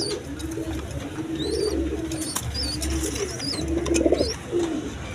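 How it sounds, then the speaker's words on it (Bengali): American fantail pigeons coo in repeated low, rolling phrases close by, with faint chirps from other birds scattered above them. "খুব কোয়ালিটি সম্পন্ন কবুতর, আমেরিকান ফ্যান্টাল"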